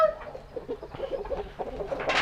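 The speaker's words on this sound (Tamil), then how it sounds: "இது வந்து நம்ம பண்ணையில் இருக்கிற பெரிய சேவல்" A large farm rooster clucks in a run of short, close, guttural notes, ending in a louder call, with no talking over it.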